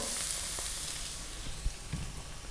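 Garlic, ginger and star anise sizzle in hot oil, a loud steady frying hiss close by, with a few soft clacks as the pan is stirred and no talking.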